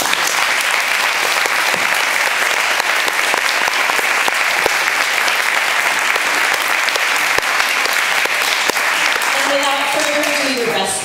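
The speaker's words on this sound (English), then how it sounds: "And lastly, a big round of applause for Mrs. Germain" Audience applauding at an elementary school spring string concert for third graders, a dense, steady wash of clapping that fills the room throughout before fading near the end as a voice begins to speak.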